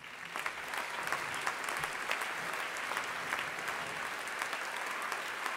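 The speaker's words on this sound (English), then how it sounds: "please give him a welcome applause" An audience at the ISFiT Student Peace Prize ceremony in Trondheim gives sustained applause to welcome a speaker, a steady crowd wash heard from a distance at low volume.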